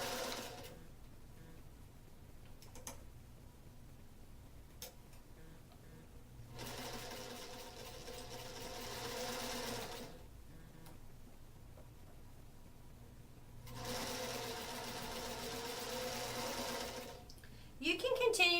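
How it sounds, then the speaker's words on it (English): Sewing machine stitching quilt pieces, running in two long, steady whirring bursts separated by quiet pauses, with a short mechanical clatter at the end. "It also ensures that our machine is still threaded properly and sewing correctly before we start."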